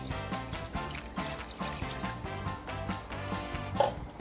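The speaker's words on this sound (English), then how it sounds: "So adding the water now." Water runs steadily into a skillet pan in a home kitchen, a continuous close pouring and trickling that keeps going without a break, with a small clatter near the end.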